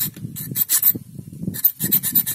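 A tool cutting into an aluminium screw, heard as close, rhythmic rasping strokes in two bursts with a brief pause between them.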